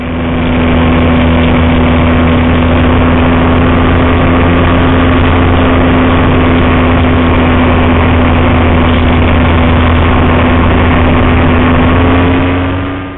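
Steady, unbroken electric motor and propeller whine from an FMS 1400mm P-40 radio-controlled warplane in flight, powered by a 3000 mAh 20C LiPo battery, loud and close with a constant drone and no talking.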